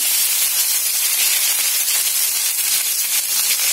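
Curry leaves sizzle in hot oil and ghee with popped mustard seeds, giving a loud, steady, close-up hiss of frying that continues without a break and without any talking.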